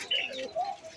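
High-flying pigeons calling close by, a couple of short soft coos and chirps over about a second, with no talking.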